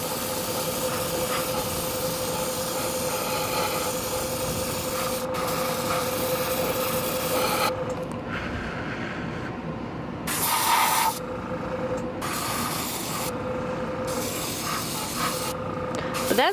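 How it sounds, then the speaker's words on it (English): An airbrush set to about 25 PSI sprays paint heavily in a steady, close hiss for a galaxy-effect finish, broken by short pauses and restarts in the second half. "So I just spray this on really heavily."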